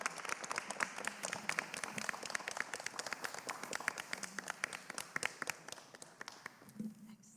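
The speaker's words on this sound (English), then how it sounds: "Give him a huge round of applause." A small crowd at a mayor's press conference in Philadelphia gives a round of applause, with distinct individual claps close by, quite sparse, tapering off near the end as a voice briefly comes in.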